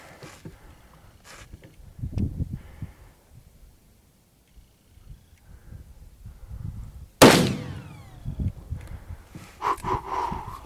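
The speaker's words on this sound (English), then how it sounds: "All right, 300 Win Mag again. Time to get through both sides of that plate." A .300 Win Mag rifle fires at a steel brake plate: one sudden, sharp, loud crack partway through, decaying quickly amid quieter outdoor rustling and breathing noises.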